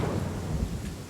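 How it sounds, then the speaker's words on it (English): Storm called up in a video game fight, a brief stretch of continuous rain-like rushing noise with low rumble, steady and loud throughout, no talk. "Pig is summoning the storm."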